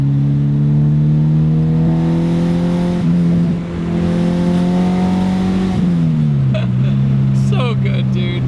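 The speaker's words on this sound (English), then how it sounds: "It's rewarding to rev it all the way out." Honda Civic with an Integra Type R engine swap revving hard, a loud sustained climbing engine tone that holds high, drops with a shift, then settles back, with a voice speaking over it.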